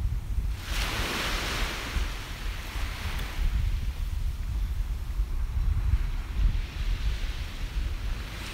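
Gulf of Mexico surf on a chilly, windy Southwest Florida beach, waves washing in with steady roar while gusts buffet the microphone, loud and close, no talking.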